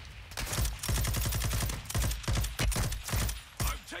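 Dense automatic gunfire in the shooter game Warzone 2.0, rapid bursts of close, loud shots running almost continuously with brief gaps, no voices over it.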